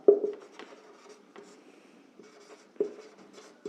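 Chalk or marker strokes on a board during a math lesson on rational numbers, a series of short scratchy taps and scrapes at an uneven pace, close and fairly quiet, with no talking.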